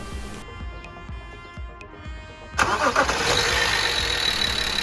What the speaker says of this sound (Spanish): vamos a arrancar nuestro coche para ver que está todo bien.